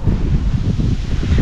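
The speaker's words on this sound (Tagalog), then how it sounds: "Lakas ng hangin." Steady low rumbling wind roars across the microphone, dense and continuous with no voices.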